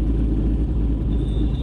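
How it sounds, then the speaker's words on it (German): The supercharged V8 of a Corvette ZR1 gives a deep, steady rumble that stays close and loud throughout, with no voices over it. "man hört auf jeden Fall an der Wand den V8 schön"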